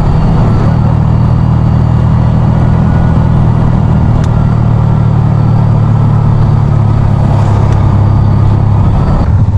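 Road traffic descends the Bitukang Manok zigzag in Candelaria, Quezon, a loud, continuous low engine rumble of idling and slow-moving vehicles, steady throughout with no break.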